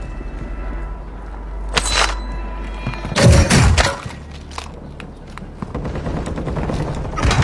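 Video game gunfire in bursts of sharp, loud shots, with rapid automatic volleys and heavy booming impacts over continuous game background noise.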